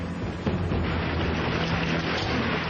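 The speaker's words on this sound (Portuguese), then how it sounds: "uma única chuva de granizo precipitou-se sobre Fort Worth, Texas" Hailstorm over Fort Worth, Texas, a dense, continuous roar of pelting ice and rain with low rumbling underneath, loud and unbroken.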